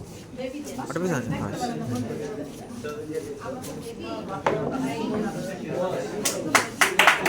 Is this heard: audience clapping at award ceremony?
yes